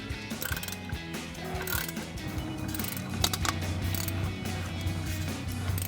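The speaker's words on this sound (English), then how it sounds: "now we're gonna get our upper mounting nut for our shock off. We have our 18mm socket on our ratchet" A hand ratchet fitted with an 18mm socket loosens the upper shock mounting nut on a RAM 2500 truck, giving rapid, close clicking pawl ratchets in repeated bursts with metallic creaks between strokes.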